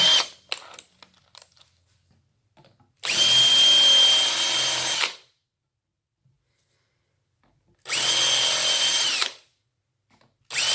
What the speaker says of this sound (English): When you drill the hole, make sure you don't touch the copper